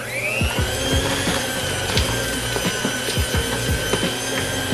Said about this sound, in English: So let me go ahead and whisk this.